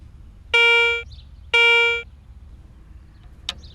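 A Garrett ACE 250 metal detector sounds its coin tone as a coin passes over the search coil: two clear, sustained electronic beeps about a second apart, loud and close, followed by a faint brief click over a low background hum.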